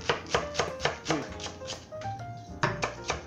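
A knife chops green onions on a cutting board for takoyaki, a series of close, crisp thunks in a fairly even rhythm of about three per second, with a brief pause midway.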